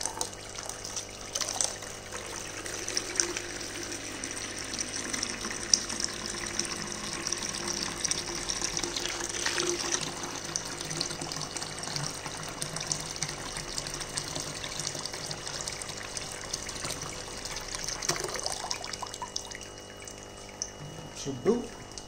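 Steady running water pours and trickles while collecting saltwater aquarium water, like a tap filling a container, continuing throughout with faint voices now and then.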